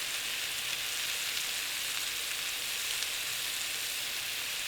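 Tuna steaks searing in a hot pan give a steady, even sizzle that holds unbroken throughout, soft and fairly close with no voices.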